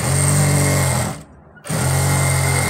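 A sewing machine stitching ladies' pants gives a loud, close motor whine with a buzzing needle rhythm, stops briefly for about half a second, then starts again at the same steady pitch.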